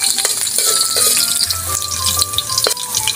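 Garlic sautéing in a hot pan for Filipino papaitan made with beef skin, a steady close sizzle and crackle of frying with light clinks of a utensil against the pan.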